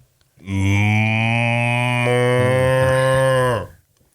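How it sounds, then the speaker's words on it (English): A single long, loud cow moo from a hillside farm, one steady drawn-out low call holding for about three seconds before cutting off, heard alone with no talking. "We have a cow that we refer to as the cow alarm that lives up on the hill from us."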